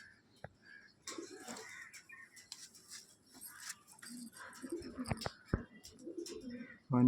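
Long-tailed pigeons coo softly at close range, low repeated murmuring calls mixed with faint chirps and small handling noises, quiet and intermittent, with no talk.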